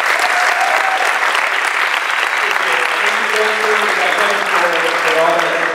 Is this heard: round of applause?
yes